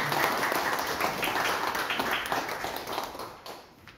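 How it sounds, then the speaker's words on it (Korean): Audience applause at a Korean history forum, a full, steady round of clapping from a room of people that stays loud before fading near the end. "다시 한번 참 박수를 보내주시면 감사하겠습니다"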